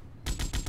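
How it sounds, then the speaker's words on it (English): Machine gun fire in Grand Theft Auto Vice City, a very brief rapid burst of three or four loud, close shots after a moment of quiet. "I can just use my MG for this."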